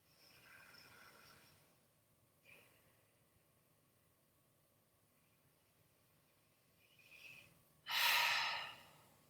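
Slow breathing while holding a yin toe squat: a soft breath at the start, faint quiet breaths, then a rising inhale and a loud, close exhaling sigh near the end.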